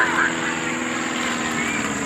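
Propeller aircraft engine drones steadily and loudly at an air show, a continuous hum with a strong tonal whine holding level throughout.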